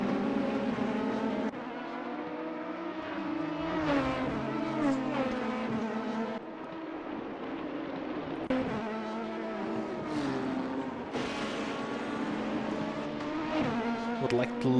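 A Dallara LMP2 prototype race car in the Assetto Corsa simulator during a Daytona 24-hour endurance race, its engine loud and continuous, with repeated high revving and shifts that bounce against the rev limiter, while commentators talk underneath.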